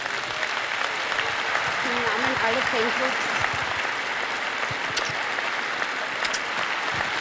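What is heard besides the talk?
concert audience applause for fan club president Doris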